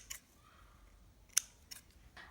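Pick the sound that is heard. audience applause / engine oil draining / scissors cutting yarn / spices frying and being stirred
scissors cutting yarn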